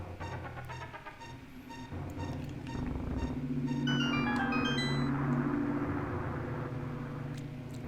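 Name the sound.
loud cars passing outside the house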